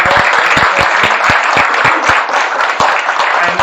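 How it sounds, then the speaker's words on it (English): A blockchain conference audience in Mallorca applauds a speaker, with loud, close, dense clapping in which individual sharp claps stand out throughout. "big applause for Richard"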